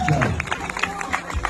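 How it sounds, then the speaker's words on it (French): Crowd applauding a runner's second-place finish at the Diagonale des Fous ultra-trail race, a steady patter of clapping from a gathered audience with a voice speaking over it. "Les applaudissements s'il vous plaît."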